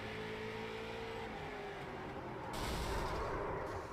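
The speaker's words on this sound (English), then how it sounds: "You can listen into the engine now." A damaged street stock car engine in an oval racing video game at South Boston, running rough and loud with a steady whirring drone that swells harsher partway through, heard alone without talk.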